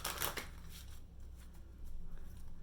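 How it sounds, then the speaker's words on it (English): Oracle cards shuffled by hand, a quick burst of riffling flutter near the start, then softer intermittent card rustles over a low steady background hum. "Normally I don't shuffle on camera too, but I'm feeling like we need to pull some more cards here"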